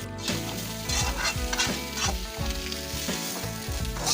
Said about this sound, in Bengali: ওই তেলেই আমি কাঁঠাল দিয়ে দেব। এখন লাল করে ভেজে নেব।